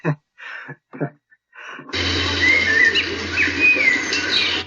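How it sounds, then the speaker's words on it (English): Brief chirps and bird calls at first, then a steady outdoor hiss with thin, high tweets threading through it. "then the bird starts to chirp"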